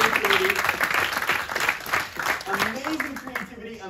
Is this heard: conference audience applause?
yes